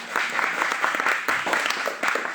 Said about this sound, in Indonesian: Mohon tepuk tangan kepada beliau.